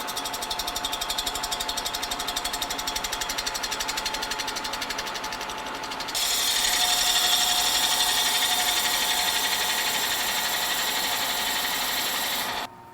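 A lathe taking light cuts on a motor flange face, a steady machining whine with a rattling mechanical buzz that grows louder and brighter halfway through, then drops off abruptly at the end.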